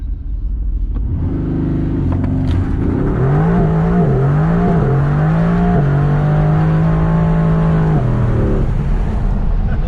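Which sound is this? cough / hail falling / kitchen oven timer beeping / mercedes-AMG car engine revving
mercedes-AMG car engine revving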